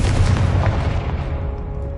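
A Confringo blast spell bursts in Hogwarts Legacy, a loud, close, booming explosion that rumbles and then fades out over about two seconds.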